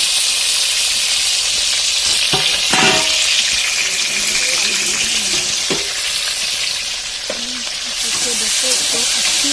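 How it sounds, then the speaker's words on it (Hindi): Potatoes fry in a pan for a homemade fish curry, giving a loud, steady sizzle and hiss up close. A few clicks and scrapes from stirring cut through. "अभी आलू को फ्राई करूँगी मैं"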